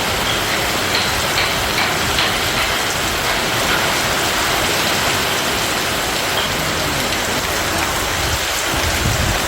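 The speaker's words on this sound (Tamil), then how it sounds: "சுமார் அரை மணி நேரமாக காற்றுடன் கனமழை பெய்தது" Heavy rain falls with wind, a dense, even roar of drops on surfaces that holds steady and loud throughout, with no voices.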